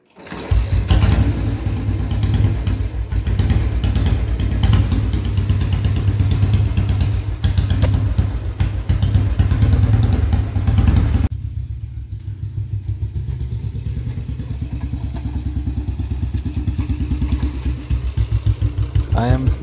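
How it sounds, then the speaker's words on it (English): A 1966 Royal Enfield motorcycle engine runs with a loud, rapid thumping idle close by, then drops abruptly to a quieter, steady idle partway through. "I will unveil it and fire up its engine for you"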